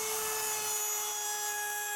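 Cordless router plunging and cutting through plywood for a custom guitar, a loud steady high-pitched whine with a strong tonal hum, continuous and close throughout, with no talking.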